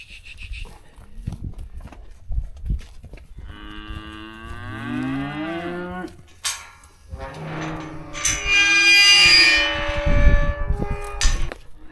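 Heifers moo loudly nearby in a working cattle alley, several long, drawn-out calls with shifting pitch, while metal clangs and hoof sounds fill the gaps.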